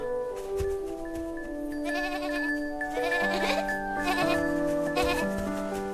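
Several cartoon goats bleat in wavering, overlapping cries over light background music, sounding animated and close.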